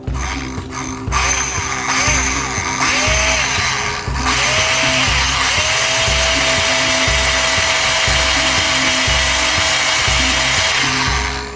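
A dull bit drills a hole into a part of a 1946 Dodge Power Wagon RC wrecker model, a steady close whine from a power drill running continuously with slight pitch shifts.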